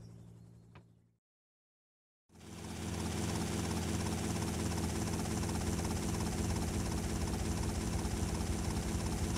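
A helicopter engine drones loud and steady in the game GTA Vice City, starting abruptly after a brief silence and holding a constant rotor-and-turbine hum to the end.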